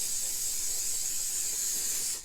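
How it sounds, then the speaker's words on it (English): Mod Podge sealant sprays from an aerosol can onto a canvas with ladybugs crafted from spoons, a close, steady hiss held for about two seconds before it cuts off, with no voices. "I'm going to spray my ladybugs and the canvas with Mod Podge"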